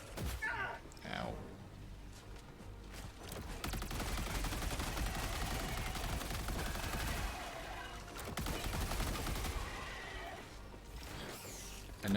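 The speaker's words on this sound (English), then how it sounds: "I know I don't need to shoot it that much" Rapid automatic gunfire in the video game Helldivers 2, a loud dense stream of shots that runs nearly nonstop for about ten seconds, with voices mixed into the game audio.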